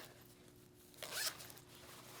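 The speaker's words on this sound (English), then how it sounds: "Zipper on the left." A single quick zipper pull on the left storage pocket of an RST S-1 D3O textile mesh motorcycle jacket, close and crisp, lasting under half a second against a quiet background with no talking.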